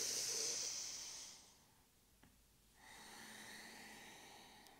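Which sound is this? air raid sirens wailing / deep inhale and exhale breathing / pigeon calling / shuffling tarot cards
deep inhale and exhale breathing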